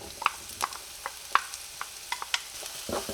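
Finely chopped onion and pepper sauté in hot oil in a pot, a quiet steady sizzle broken by scattered crisp pops and spatters with no one talking.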